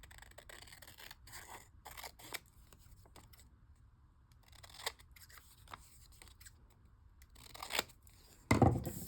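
Scissors trim the edge of a folded paper tag for a junk journal in a quiet room, giving several scattered crisp snips and paper rustles, with a sharper, louder cut and paper handling right at the end.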